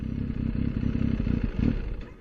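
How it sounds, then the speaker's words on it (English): A motorcycle engine idling up close in neutral with the front brake held, a steady low throbbing chug with faint clatter that sputters out as it is switched off near the end. "Engine off."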